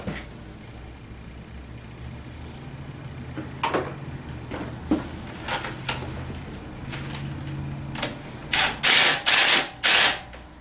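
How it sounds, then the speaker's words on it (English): Bolts being fitted during assembly of a TaoTao 150 Hummer ATV: sparse metallic clicks and ratcheting taps, building to several loud, rapid mechanical bursts near the end, close by with no talk. "I'll put the last bolts in."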